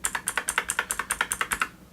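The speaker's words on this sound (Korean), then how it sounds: "제닉스 광축 스위치는 소리가" Someone types on a Xenics Optical V2 gaming keyboard with waterproof optical switches. About fourteen quick, even, close clacks sound alone, then fade out near the end.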